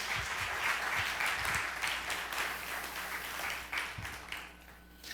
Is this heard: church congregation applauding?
yes